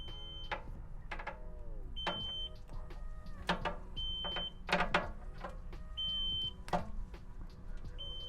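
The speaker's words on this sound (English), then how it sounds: "Alarm here." A dialysate solution mixing machine alarm beeps repeatedly in short high tones at a steady interval, mixed with clicking and clattering handling noises nearby.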